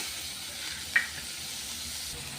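Gobindobhog rice frying in oil with coriander, chilli powder and turmeric, a steady soft sizzle with one brief clink near the middle, no voices.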